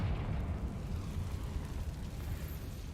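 A rumbling fiery blast from the Confringo spell in Hogwarts Legacy, a loud, dense low roar that holds steady and slowly fades over a few seconds.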